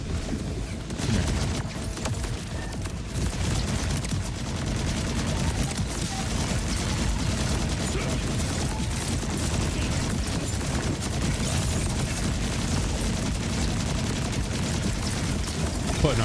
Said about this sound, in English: I could hear the gunfire rate drop.